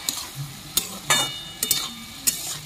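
Ridge gourd frying in a pan is stirred with a spatula, giving several sharp scrapes and knocks over a low, continuous sizzle.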